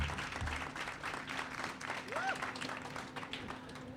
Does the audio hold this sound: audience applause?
yes